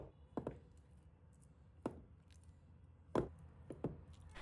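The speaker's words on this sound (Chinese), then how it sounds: "切成我们手中这样的小块就可以了" A knife chops soft tofu into small cubes on a cutting board, giving four or five separate, close, dull thunks at an uneven pace with quiet pauses between them and no talk.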